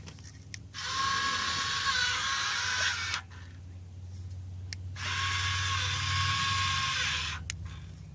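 A power tool loosens bolts on Mustang exhaust cutouts, running in two sustained bursts of steady high-pitched whirring separated by a short pause, close and fairly loud over a low background hum.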